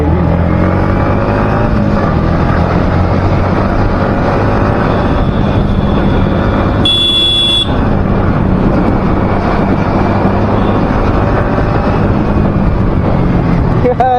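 A motorbike ridden on a city road, its engine droning loud and steady under heavy wind rumble, with a short high horn-like tone partway through.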